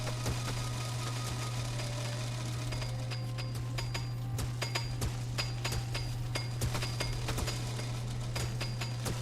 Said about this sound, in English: you're able to go so fast with that super drill